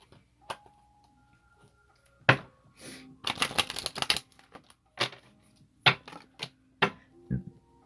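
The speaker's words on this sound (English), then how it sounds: "shuffle the deck one more time" A deck of tarot cards is shuffled during a reading, with sharp riffling bursts and scattered taps and clicks, loud and close with quiet gaps between, and no voices.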